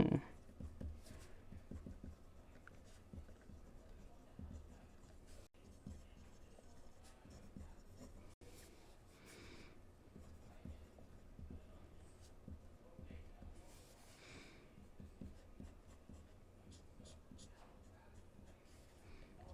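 A new Visconti Homo Sapiens Dark Age fountain pen scratches softly across paper in steady, faint strokes, with light room noise underneath.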